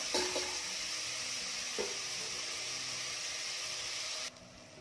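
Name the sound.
onions frying with a little salt in a pan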